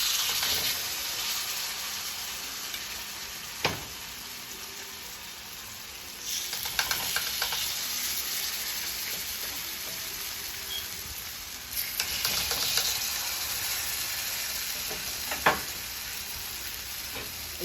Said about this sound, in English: And you let those cook for 3 to 4 minutes on each side.